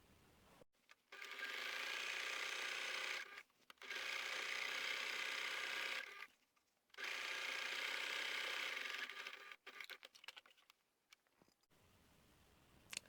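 A sewing machine stitches down the side seam of a fabric laundry bag in two long, steady runs of fast mechanical whirring separated by a short pause, followed by quieter clicks and fabric handling.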